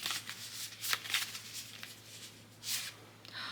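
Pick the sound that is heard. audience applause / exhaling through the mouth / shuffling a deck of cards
shuffling a deck of cards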